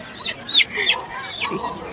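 A chicken at a Hindu temple ritual gives a few short, sharp clucks close by, over background chatter and crowd noise.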